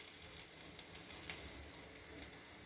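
A single sabudana grain dropped into heated oil on a medium flame gives a faint, soft, steady sizzle with a few tiny crackles, quiet and close.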